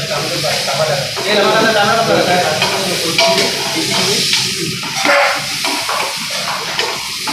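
Onion fries in a pan, giving a steady sizzle and hiss with stirring scrapes. A person talks over it.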